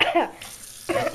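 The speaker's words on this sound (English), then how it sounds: "She is spitting out water." A girl spits out a mouthful of water during a tooth-pulling at home. Two short, splashy sputtering bursts are separated by a quiet gap.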